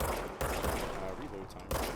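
Gunfire in the video game Control, a quick burst of rapid shots in two short bursts, fairly close and moderately loud.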